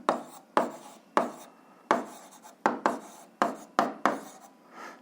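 Pen strokes on paper as a solution check is written out for an eighth-grade algebra exercise: about ten short scratchy bursts in an irregular rhythm, close and fairly quiet, with no talking.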